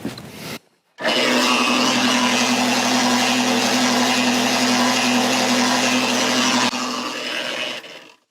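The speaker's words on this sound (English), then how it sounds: "So I'm going to give this a quick mix, these large ingredients, just for a second, get it spun up" A feed mixer spins barley, alfalfa and rolled roasted soybeans for goat, cattle and sheep feed, starting with a loud, steady whirring roar after a brief pause and running evenly for several seconds before winding down.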